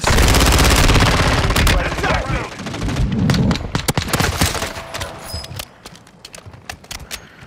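Intense bursts of rapid video game gunfire and explosions, loud at first then thinning into scattered sharp shots, with voices faintly underneath.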